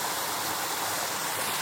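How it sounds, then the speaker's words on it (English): A small waterfall rushes in a steady, loud broadband roar of falling water heard close, with no breaks and no talking. "There is a part of me that wants to go in there to look towards this mini falls, waterfalls, and then show the bigger falls up there."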